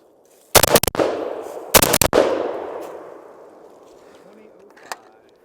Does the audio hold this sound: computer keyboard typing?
no